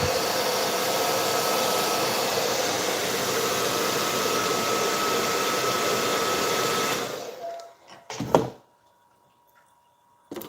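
A hair dryer blows loudly and steadily on a Sonic cosplay wig for about seven seconds, then winds down and cuts off, followed by a few handling knocks and near silence.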